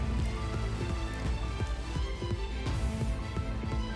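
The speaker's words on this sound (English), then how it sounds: "So we're going to go in with the rain dance." Rain summoned by the Rain Dance move in Minecraft Cobblemon, a steady, dense patter of raindrops with a continuous hiss and scattered, brief louder drops.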